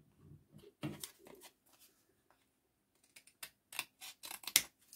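Scissors snip through packaging card in a string of short, sharp crisp cuts, close and fairly quiet, with brief pauses between bursts.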